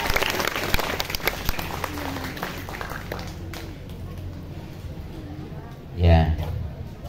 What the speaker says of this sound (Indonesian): Kasih aplaus tepuk tangan.